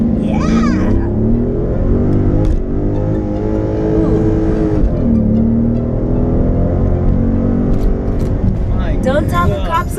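A 2016 Chrysler 300C SRT8 launches hard and accelerates, its engine roaring loud and close as the pitch climbs and drops through gear changes, with people talking and whooping over it.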